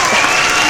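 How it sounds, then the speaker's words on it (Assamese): A crowd claps together in a short, loud, dense burst of applause, with no voices rising above it. "এটা হাত চাপৰি বজাই দিয়ক"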